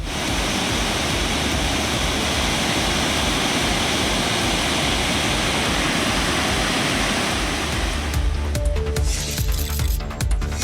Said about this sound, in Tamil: திருப்பரப்பு அருவியில் நீர் ஆர்ப்பரித்து கொட்டுகிறது